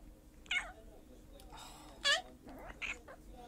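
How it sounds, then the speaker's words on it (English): A cat in a replay-mode game mod meows several times in short, faint, separate calls spread across the moment, with people talking and reacting between the meows. "Look at the kitty."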